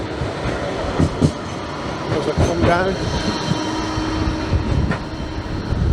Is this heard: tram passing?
yes